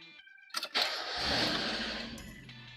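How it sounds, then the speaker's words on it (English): A Mazda Miata engine cranks and catches, then settles into a steady, loud idle close by. "I'm going to go start the engine just to rinse the water through the engine"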